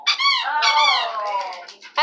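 A dog's rubber squeaky toy being squeezed, giving a run of loud, high, wavering squeaks that stretch almost unbroken through the moment, with a short sharp squeak again right at the end.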